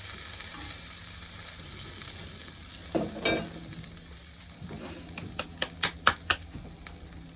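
Lion's mane mushroom frying in butter in a pan while being pressed down: a steady low sizzle throughout, with a sharper burst near the middle and a run of quick crackling pops toward the end, no voices.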